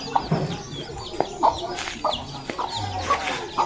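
Chickens clucking around a Phu Thai village home, short scattered calls near and far in a quiet rural setting with faint background rustle.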